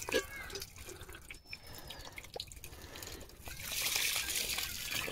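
Cold water runs from a newly fitted outdoor tap, a faint trickle and drip that swells toward the end, with soft ambient noise around it.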